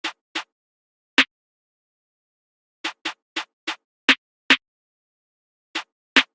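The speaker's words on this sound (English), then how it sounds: "Then I layered it with another snare sound." Layered snare samples in an FL Studio drill beat, sharp broadband hits in an irregular syncopated pattern, clustered pairs and gaps, about eleven strikes, close and dry with silence between, no voices.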